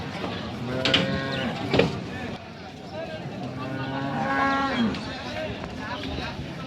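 Bullocks low at the Rajshahi City cattle market, several drawn-out moos rising and falling over the crowded, noisy market din.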